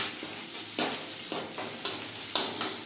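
Onions fry until brown in a pot for jeera pulao, giving a steady close sizzle marked by periodic scraping stirs and a few clinks against the metal.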